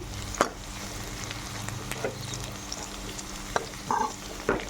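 Okra fries over a high flame in a pan, a continuous crackling sizzle broken by intermittent scraping and stirring knocks up close.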